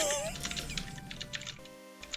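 Someone types on a computer keyboard close to the microphone, a steady run of crisp, loud keystrokes heard beneath faint background voices.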